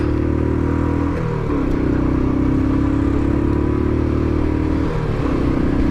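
Royal Enfield Classic 500 motorcycle accelerating up a motorway slip road, its single-cylinder engine thumping loud and close with steady harmonic drone and brief gear-change dips.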